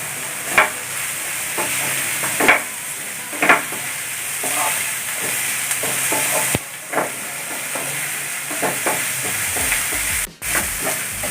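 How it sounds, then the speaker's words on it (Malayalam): Onion and garlic sizzle and fry in a pan with a steady hiss, broken by repeated close scrapes and clinks of a spoon stirring, made for chicken cutlet filling; no talking. "നമ്മുടെ സവോളയും വെളുത്തുള്ളിയൊക്കെ നന്നായി ഒന്ന് വാടിയിട്ടുണ്ട്"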